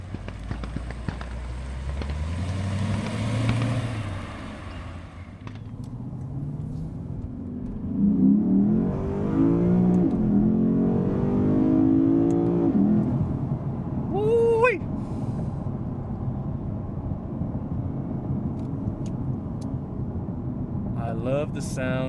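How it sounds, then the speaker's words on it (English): A Lexus IS500 with a V8 engine accelerating on the road, its deep growl rising through the revs and falling between gear changes, heard from inside the car with speech over it. "love the sound of this V8."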